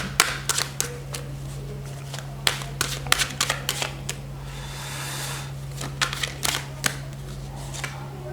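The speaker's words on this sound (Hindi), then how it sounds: "कार्ड्स को करते हैं शफल" Tarot cards are shuffled by hand close up in a quiet room, with bursts of crisp riffling and soft slaps coming in irregular clusters over a low steady hum.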